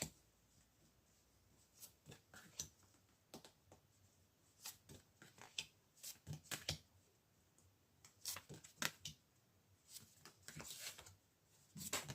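Tarot cards being shuffled and drawn for a reading, soft close riffles and sharp slaps of card stock in irregular bursts, quiet and intimate with pauses between.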